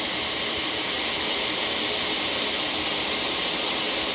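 A self-cleaning Shark vacuum cleaner running continuously, a loud steady motor whine and airflow hiss close up, with no talking.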